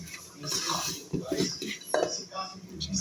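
A small cooking pot being handled in a home kitchen, with close clanks and metallic knocks of pot and utensils in uneven bursts, while someone talks over the clatter.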